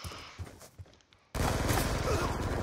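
Gunfire in Call of Duty Black Ops 2 online Domination on the Aftermath map: a few faint scattered shots, then an abrupt loud burst of sustained rapid fire and explosions filling the second half.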